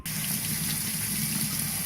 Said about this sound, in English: the first thing I need to do is to run water through the filter in order to